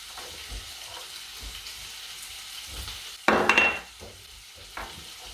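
Sausages sizzle quietly in a frying pan, and then minced garlic drops in, setting off a sudden loud burst of crackling frying that settles back to a gentle sizzle within a second or so.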